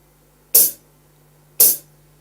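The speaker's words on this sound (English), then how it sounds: "So this is the sound of the hi-hat." Hi-hat voice on an electronic rhythm pad struck twice about a second apart, each a short bright hiss-like cymbal tick that decays quickly, close and clear with no talking.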